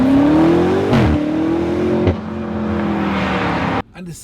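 BMW M5 Competition engine in sport mode with exhaust closed revs loudly close by, a sustained rising drone with a couple of gear-like breaks before dropping off abruptly near the end.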